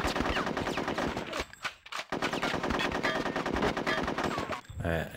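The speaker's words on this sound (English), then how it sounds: "I'm gonna shoot it" Rapid automatic gunfire in the N64 video game Conker's Bad Fur Day, dense continuous bursts that briefly cut out for about half a second before resuming loud and sustained.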